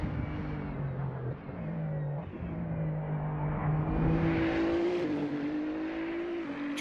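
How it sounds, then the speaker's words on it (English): A Ferrari GT3 race car engine in a racing video game, modelled on a GT World Challenge endurance race at Bathurst, drones loudly and steadily, its revs climbing and holding, with no talk over it. "Man, I love this Ferrari, even just the sound of the engine."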